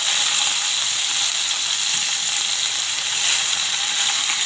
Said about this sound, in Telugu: ఆయిల్ హీట్ అయింది. దీంట్లో ఇప్పుడు తాలింపు గింజలు,